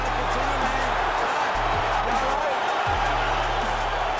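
A boxing crowd roars steadily for heavyweight Shannon Briggs after he is knocked down by Lennox Lewis, a dense, continuous wall of cheering that stays loud throughout, with a low hum underneath.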